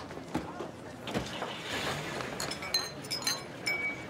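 Stemmed drinking glasses clink together as people walk outdoors on a street, several light, bright taps near the end over steady background noise and conversation.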